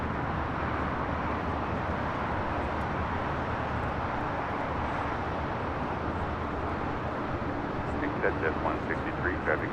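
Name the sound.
Hawaiian Airlines Flight 3 airliner at LAX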